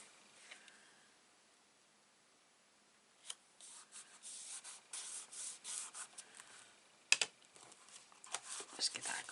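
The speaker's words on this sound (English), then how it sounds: "Just give that a good burnish" Glued card paper burnished flat for a stamped card: soft, brisk rubbing strokes in short bursts after a quiet start, close and gentle, with a brief tap partway through.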